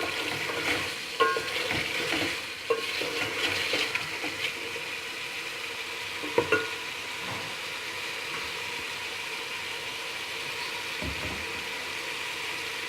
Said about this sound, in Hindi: दही को ज़रा सा भून लेना है अभी, ताकि दही अच्छे से मिक्स हो जाए।